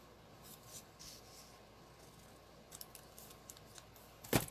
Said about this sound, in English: Just going to cut it with the scissor